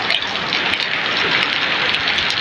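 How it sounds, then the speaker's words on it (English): Steady rain falling in Benin City, Nigeria, the first rain of 2023, a dense, continuous hiss of drops pattering on surfaces nearby, heard alone without talk. "Na im make us dey experience dis rain now during dis period."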